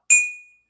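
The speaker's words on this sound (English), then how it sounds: "I'm going to ring the bell." A small bell struck once, close and loud, giving a bright metallic ding that rings out and fades over about half a second.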